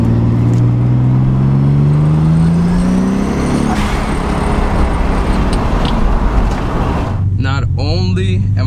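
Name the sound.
car engine and road traffic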